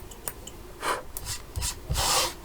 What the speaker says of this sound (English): Just cut up like that to sort of feather the ends.